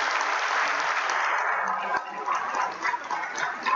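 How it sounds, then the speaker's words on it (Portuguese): Church congregation applauding together during a thanksgiving service, a dense steady clapping that holds loud and even for several seconds, then thins and turns a little more uneven toward the end. "Um forte aplauso ao Senhor pelo dia de hoje."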